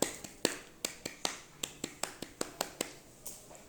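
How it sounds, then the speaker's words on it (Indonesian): A group performs the rhythmic Indonesian scout clap (tepuk pramuka) at a scout leaders' gathering: a patterned series of about fourteen sharp, crisp claps, some doubled, ringing close and distinct in a quiet room. "Tepuk pramuka."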